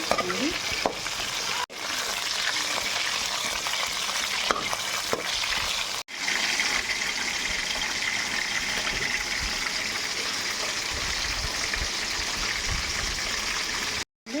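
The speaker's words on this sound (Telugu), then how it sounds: "బాగా నూనెను వేయించుకోవాలి." Stuffed brinjal fries in oil in a pan with a loud, dense, continuous sizzle close by. Brief cuts break it twice, and faint stirring scrapes run through the frying.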